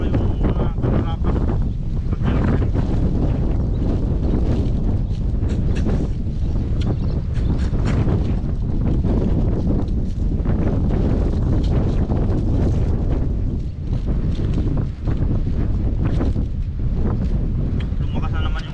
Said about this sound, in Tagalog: Lumakas na naman yung hangin.